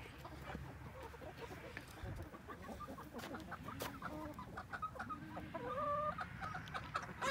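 Chickens clucking steadily at close range in a farm pen, several birds overlapping with short calls and a few brief rooster-like notes, continuous and moderately loud with no talk.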